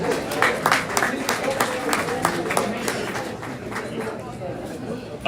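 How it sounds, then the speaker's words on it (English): An audience at a college athletics event applauds as honorees head to their seats, a dense steady patter of clapping with crowd chatter mixed in, fading slightly toward the end. "Round of applause as they head to their seats."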